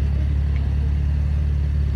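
A car idles and rolls slowly backward out of a driveway, its engine a steady low rumble close by, even and unbroken with no revving or other sounds over it.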